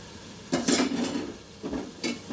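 Spiced meat stock pours and splashes into a pot of pea pulao rice in a few short bursts, with light metallic clinks of utensils against the cookware.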